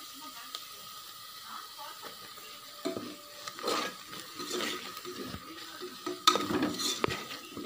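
Onions and chili powder sauté in a pan for tomato chutney, with a soft background sizzle broken by several bursts of scraping and stirring from a spoon against the pan, growing busier toward the end.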